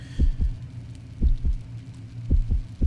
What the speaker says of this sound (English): now the heartbeat is going faster because of this trap